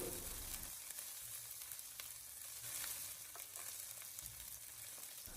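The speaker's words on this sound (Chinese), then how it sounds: "油热之后将切好的小料放进来，用小火给它煸炒一下，将小料煸炒出香味" Chopped aromatics stir-fry in a little oil over low heat, giving a soft, steady sizzle with scattered scraping taps from the spatula. There is no talking.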